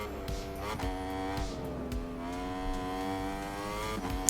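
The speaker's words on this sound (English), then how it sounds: "Do like the sound of the Yamaha, probably my favourite sounding motorcycle from the superbike class." A Yamaha superbike engine in the racing video game Ride 5 holds a steady, high-pitched roar with rising revs and gear shifts, continuous and alone.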